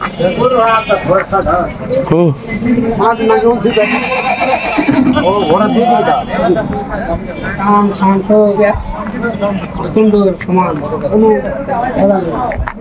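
Horses whinny and neigh repeatedly at a horse fair where they are brought for sale, loud and close, mixed with dense crowd chatter and people talking over the animals.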